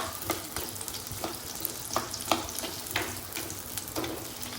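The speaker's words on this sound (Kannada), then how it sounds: "ನೀರುಳ್ಳಿ ಅಂತೆ ಕಾಯಡೆ ಇಟ್ಟು" Onions frying in a pan for a mushroom gravy, a continuous close sizzle and crackle with repeated sharp stirring scrapes and no speech.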